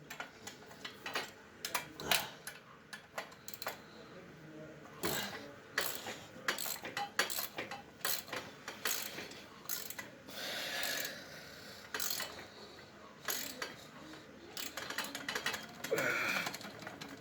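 A ratchet wrench clicks in short irregular bursts while a bike part is tightened, the faint, close metallic ticking broken by pauses and small handling noises.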